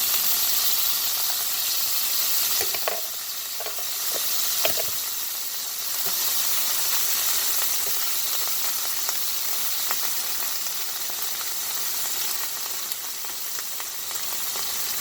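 Fresh spinach sizzles and hisses steadily in a hot pan as it wilts, with a continuous bright frying crackle and occasional sharper pops, close and loud throughout.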